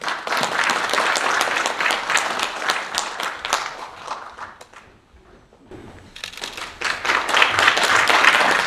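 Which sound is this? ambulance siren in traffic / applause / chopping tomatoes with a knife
applause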